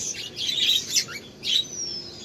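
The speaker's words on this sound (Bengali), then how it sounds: "আমার পাখিগুলো আমার কণ্ঠ পেয়ে দেখেন ডাকাডাকি শুরু করেছে" Small pet birds chirp and call repeatedly in quick bursts, fairly close, with a steady low background hum.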